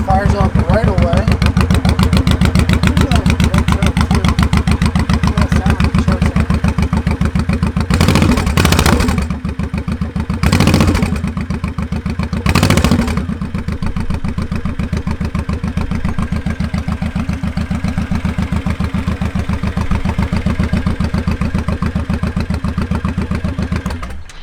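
A Honda Shadow Sabre motorcycle fires up and settles into a loud, steady idle with an even throb. A few brief bursts of extra noise rise over the engine midway through before it holds its idle again.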